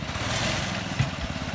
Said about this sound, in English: It's powered by a small engine, but it can also be powered by batteries alone